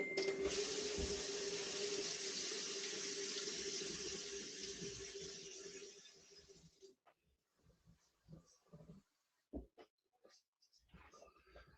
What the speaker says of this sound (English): That's a third of a cup of hot water.